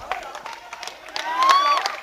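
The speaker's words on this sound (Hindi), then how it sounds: "एक बार जोरदार तालियां इस मैच के लिए" A crowd at a cricket match applauds and cheers for a few seconds after a big six, the clapping moderately loud and mixed with a voice over a public address.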